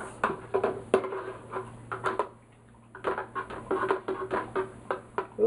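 Salt is stirred into hot water for tie dye, giving repeated scraping and clinking of a utensil against a container in short bursts with a brief pause, close by.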